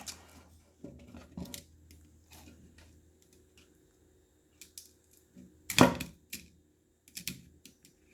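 Replacement trimmer line for a WORX leaf mulcher being cut, with a few sharp snips standing out between quieter handling clicks and rustles, close and alone without speech.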